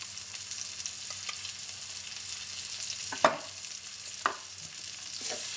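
Small onions and ginger paste frying in hot oil for a chicken fry piece biryani, giving a steady soft sizzle with a few sharper stir scrapes near the middle and end; no one speaks.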